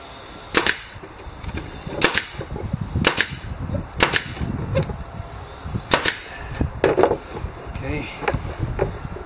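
A staple gun fires staple after staple into a curved box edge on a Sonoma box build, sharp close snaps spaced about a second apart over a steady background hum.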